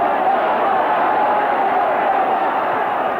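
Football crowd at a Rangers vs Morton match: a steady, dense roar of many voices, distant and continuous without peaks.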